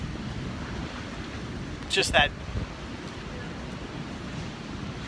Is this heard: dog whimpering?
no